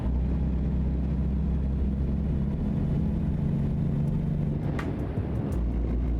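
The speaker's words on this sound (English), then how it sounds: "I can't hear the snow cracking or crunching because my truck is loud" Loud, steady truck engine drone in American Truck Simulator on a snowy road, a constant low rumble that stays close and even throughout with no voices.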